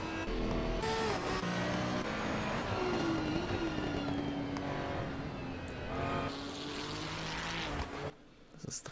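A Ferrari race car roars past on the Watkins Glen circuit in Assetto Corsa Competizione, a loud sustained engine drone with rising and falling pitch as it passes, then it cuts off abruptly near the end.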